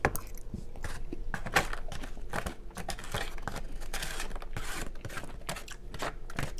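Frito corn chips being crunched and chewed up close, a steady run of crisp, crackly bites and chewing with no talking, at a mukbang meal of chili cheese dogs and Frito pie topped with cheese sauce.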